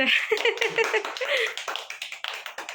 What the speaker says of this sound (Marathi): हा ये टाळ्या वाजवा